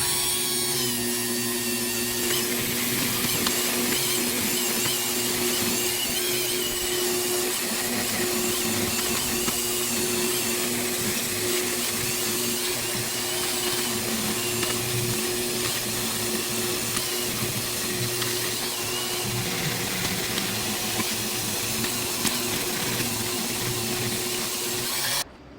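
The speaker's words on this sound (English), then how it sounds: "we'll finish this side with the wire brush" A wire brush scrubs the surfaces of a 5.4L 4V engine cylinder head, a continuous, dense abrasive hiss with a steady mechanical hum beneath it. It runs unbroken and close for the whole stretch, with no voices.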